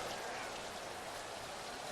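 Rain falls steadily during a wet outdoor football game, a dense and even hiss of drops hitting surfaces that holds a constant level with no speech above it.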